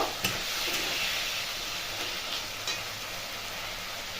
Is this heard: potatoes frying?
yes